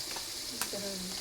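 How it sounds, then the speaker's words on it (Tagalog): Pork liempo in a thick, saucy mix is stirred in a pan over a steady background sizzle, with a short clack of the utensil partway through and a faint hum later. "Haluin mo natin siya mga idol."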